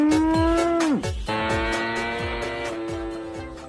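A toy cattle truck carrying a spotted cow gives out a loud, close recorded moo, a long drawn call followed by a second bellow, with rhythmic clicking running beneath it.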